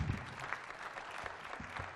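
An audience at a media launch for a heritage festival claps, a faint, steady patter of applause heard from a distance in a large room, with no voices over it.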